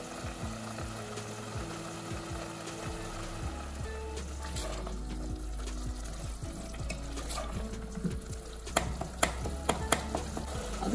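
Arvi (taro root) qeema frying in oil or ghee in a pan gives a soft, steady sizzle close by, with a few sharper scraping or stirring clicks toward the end.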